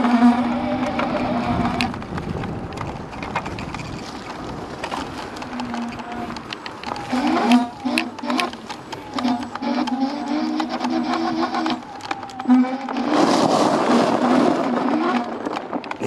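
Dualtron X2 electric scooter motor running under throttle, a steady mechanical whine and hum with buzzing, clattering texture that swells louder near the end, continuous and close without speech.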